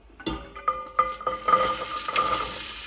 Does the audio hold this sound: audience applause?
no